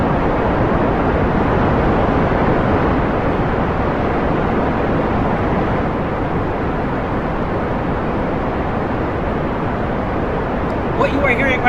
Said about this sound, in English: What you are hearing right now is the sound of 18 of these smaller sized thrusters and a single mainsail in a clustered engine configuration